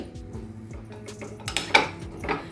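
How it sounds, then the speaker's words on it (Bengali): Fresh jaggery sandesh sweets mashed in a bowl, with a utensil clinking and scraping against the dish in short, close taps that grow louder toward the end. "এই সন্দেশগুলো আমি এবার এই বাটির মধ্যে নিয়ে নিচ্ছি। বাটির মধ্যে নিয়ে আমি এগুলোকে পুরো ম্যাশ করে দিচ্ছি।"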